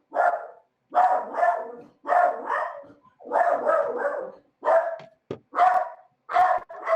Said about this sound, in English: Hey, it's somebody's dog.